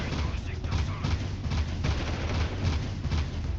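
Gunshots in the video game Jak 2, a dense run of booming, muffled bursts heard up close, with speech-like sound mixed underneath.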